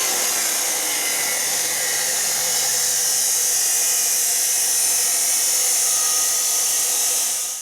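Steady high-pitched whine of a power tool cutting an MBRP side-exit exhaust pipe for a 2019 Ford F150 5.0L, continuous and loud throughout with no pauses.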